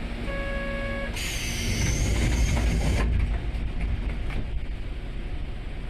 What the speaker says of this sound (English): The local train bound for Karatsu has departed from Saga Station.